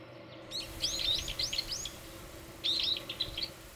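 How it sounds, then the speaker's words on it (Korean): Sparrows chirp outside an apartment in two quick bursts of bright, twittering calls over a low background hum, moderately near and clear with no voices. "아유, 참새 소리 좋다."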